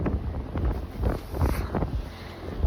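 Steady strong wind buffets the microphone in low rumbling gusts by the sea on a remote island, with a faint rush of open water beneath.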